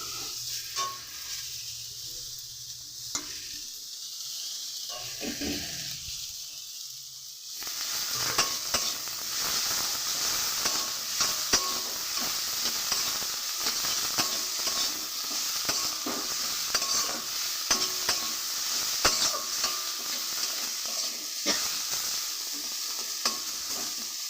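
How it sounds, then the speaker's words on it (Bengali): Leafy greens hit a hot pan and fry with a dense, steady sizzle and hiss, accompanied by occasional stirring scrapes close by, continuing loud and unbroken after a quieter start. "এবার এতে আমি শাকটা দিয়ে দেবো"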